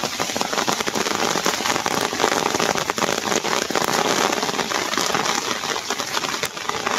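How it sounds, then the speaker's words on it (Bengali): Steady rain pouring over flooded village fields during fishing with a net, a dense, even hiss of drops on water and surfaces throughout, with a faint engine hum underneath. "বৃষ্টি নামে আর মানে আবার থামে, বৃষ্টির কোনো শেষ নেই"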